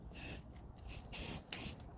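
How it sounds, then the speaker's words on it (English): Silicone spray hisses in three short bursts onto the rubber window seals of a car, each puff a sharp airy spritz lasting a fraction of a second, close and fairly quiet. "I'm just going to spray the outside of this bit here"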